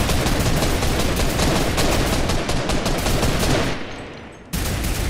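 Dense, continuous automatic gunfire and bursts fill a Fortnite Vietnam War creative map battle, loud and close throughout, dropping briefly before resuming.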